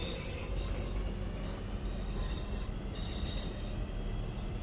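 A Centro Class 323 electric multiple unit pulls away in Train Sim World 4, a steady rolling rumble with whining motors and squealing wheels building over several seconds, with no talk.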